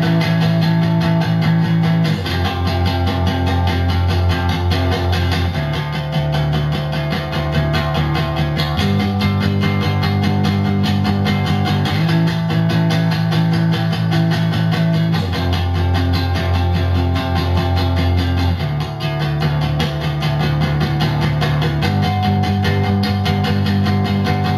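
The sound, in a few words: electric guitar playing chorus of a song twice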